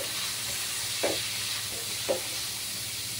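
Chicken being sautéed in a pan with garlic, onion and carrot, giving a steady soft sizzle with two brief stirring scrapes, close and with no talking.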